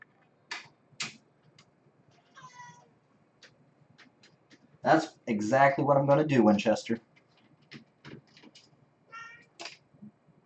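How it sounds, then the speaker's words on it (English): A kitten meows in short calls near a PC case being set up, heard between stretches of a man's speech. "Yeah, I hear you. You're not convincing, little kitten."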